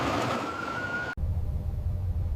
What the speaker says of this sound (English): sirens wail across the capital